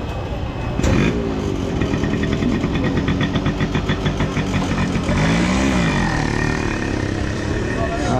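A motorcycle passing at a busy public market, its engine revving and swelling loudly nearby, with people talking and market bustle over it.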